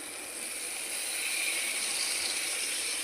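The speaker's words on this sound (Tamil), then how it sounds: "இப்போ கொஞ்சமாக தண்ணி சேர்த்துக்கலாங்க." Water pours steadily into a pot of curry as it cooks, giving a continuous soft gushing hiss that stays even and close for the whole stretch.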